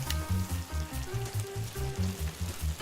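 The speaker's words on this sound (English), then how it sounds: "let's get this sizzling beef sizzling fajita done" Beef fajitas sizzle on a griddle in the cooking game Cook Serve Delicious 2, a steady crackling fry under a pulsing, rhythmic low musical backing, with no voices.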